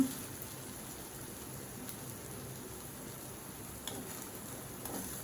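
Potato chops (aloo chop) fry in hot oil with a soft, steady crackle and spatter, faint and continuous like light rain, with a few small pops.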